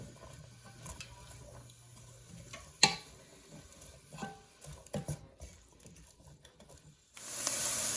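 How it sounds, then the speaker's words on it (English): Peppers and onions stirred in hot oil for chili: scattered clinks and scrapes of a utensil in the pan over low sizzling, ending in a louder, steady sizzle, close and without talk. "I'm just going to mix those into the oil, and we're going to cook them for about 3 to 5 minutes"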